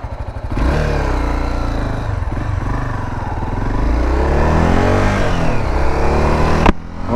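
A Honda Sahara delivery motorcycle accelerates in third gear, its engine droning loudly and continuously up close with rising revs and some rattle before cutting off near the end.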